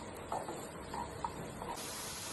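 Sliced onions sautéing in a pan until golden brown, a soft continuous sizzle and hiss with faint scattered pops, quiet and close, no voices.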